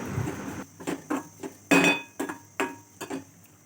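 A metal spatula clinks and scrapes against a pan while dry fruits roast with semolina for a ripe jackfruit shira, about seven sharp, irregular knocks close by with a soft hiss between them and no talking.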